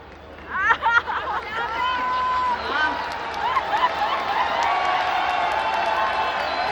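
At a festival evening of qawwali and poetry in Moradabad, an audience breaks into applause and cheering beneath excited chatter and a few whistles, the crowd swelling into a sustained, moderately loud roar.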